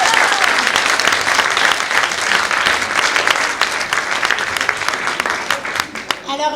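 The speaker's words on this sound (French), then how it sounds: "Encore un tonnerre d'applaudissements." Loud, sustained applause from an audience at a children's design-thinking workshop during a GreenTech hackathon, thick continuous clapping with some crowd murmur, thinning slightly toward the end.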